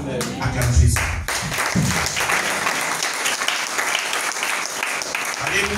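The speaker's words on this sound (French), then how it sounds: "Acclame Jésus." A church congregation bursts into loud applause and clapping during a French-language evangelistic service, sustained throughout with voices calling out over it.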